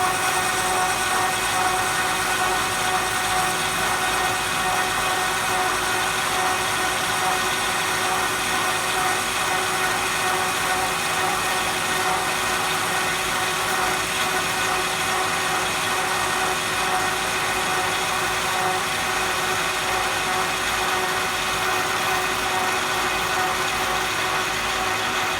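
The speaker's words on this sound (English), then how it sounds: "So all we need to do now is turn on the lathe, engage the power feed clutch," A metal lathe runs steadily with the power feed engaged, cutting a part for an oil seal carrier. It makes a loud, unbroken machine drone with a constant tone that does not change for the whole stretch, and nobody speaks.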